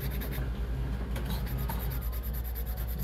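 Gentle nail file rasping against a false nail tip as it is shaped, soft continuous rubbing strokes close by under a steady background hum with regular ticking.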